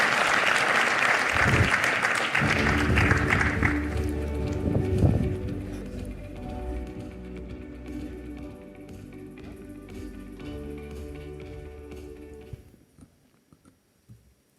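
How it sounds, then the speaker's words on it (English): An audience applauds at a business conference on investing, a dense wash of clapping that gradually thins and fades out over several seconds, ending in near silence. "Warm round of applause, please."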